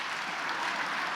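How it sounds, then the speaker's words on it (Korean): A church congregation at a Korean praise service claps together in a steady, dense round of applause that fills the room evenly from start to finish, with no voices over it. "교육부를 위하여 박수 한번 세게 쳐주셔야 돼"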